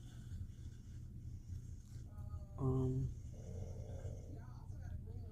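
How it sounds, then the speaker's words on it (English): A low, rumbling snore sounds once, fairly close, surrounded by steady room noise and some faint background voices. "if y'all hear snoring, that's my husband over there"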